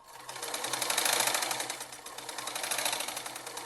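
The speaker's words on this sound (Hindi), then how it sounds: "अब लाएंगे फिनिशिंग में सिलाई" Electric sewing machine stitching the finishing seam on a strap-style kurti, a steady rapid whirring run that swells and eases slightly, heard alone and fairly quiet.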